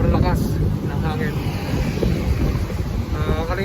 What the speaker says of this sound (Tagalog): Grabe lakas ng hangin ngayon.